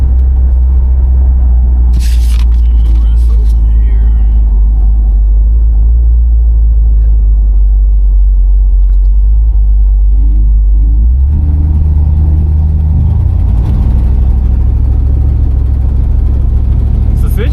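Loud, deep rumble of a 1964 Buick Electra 225 engine running steadily from inside the car, its pitch shifting as it revs partway through, with occasional speech over it.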